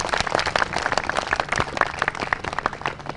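A studio audience on an Indian cricket TV show claps steadily to welcome two guests, dense and continuous applause close to the microphone.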